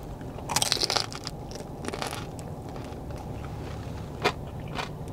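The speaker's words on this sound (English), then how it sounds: "So let's dig into this awesome roast pork." Crunchy roast pork skin from a Hawaiian market is bitten into and chewed, giving a few close, crackling crunches at the start and one sharp snap near the end, with no talk.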